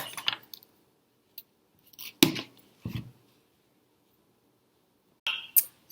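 Recycled guitar string wire being cut, a few sharp metallic snips spaced apart with quiet pauses between, close and crisp.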